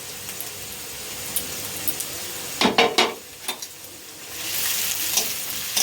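Crushed whole garam masala sizzles in a hot pan with garlic paste for a chicken singara filling. A steady frying hiss runs under a few quick, close scraping stirs, then the sizzle swells louder toward the end.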